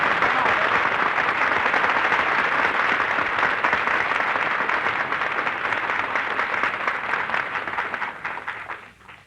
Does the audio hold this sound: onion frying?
no